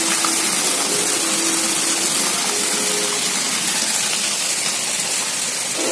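Rainwater gushing and flowing across a road during a downpour, a steady broadband rush of water that stays constant and fairly close throughout, with no talking.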